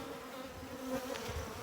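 Agitated honey bees swarm around an opened backyard hive, a dense, close, continuous buzz with a steady droning pitch; no talking.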